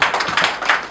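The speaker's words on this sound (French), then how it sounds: "s'il vous plaît, applaudissez pour lui" A crowd applauds the top scorer at a motorcycle-taxi football tournament trophy ceremony in Labé, Guinea: a short, loud burst of steady, close hand clapping with no talk.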